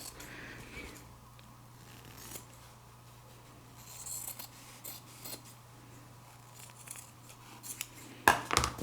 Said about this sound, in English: I'm just going to cut these little corners, get close, but not too close